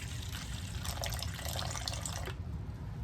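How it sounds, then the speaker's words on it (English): Water pouring from a tap into a melted soap base while making whipped soap; a steady, close splashing stream that runs for a couple of seconds, then cuts off, leaving quiet. "So I'm going to go ahead and add my water."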